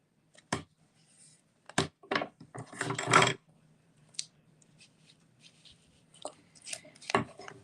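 Tear and tape adhesive ripped by hand while lining it along a shaker card window: quiet, sparse crisp clicks and crackles, with one longer, denser tearing burst in the middle.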